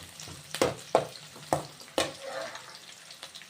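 Onions sizzle and fry in a pan for a cabbage fry, with a steady crackle broken by several sharp stirring scrapes close by.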